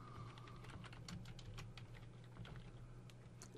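Fingers tap out a folder name on a computer keyboard, a quick run of light, close keystrokes over a faint steady hum, very quiet overall with no speech.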